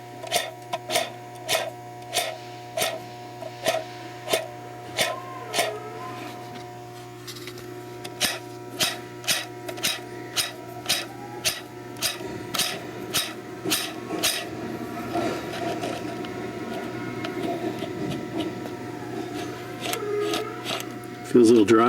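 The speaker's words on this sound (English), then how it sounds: "let me just spin the bearing with my finger" A clutch release bearing from a 2006 Toyota Tacoma 4.0L X-Runner, spun by finger with the microphone held close, gives a series of short, regular ticking clicks and a faint dry, scratchy whir; someone talks at points.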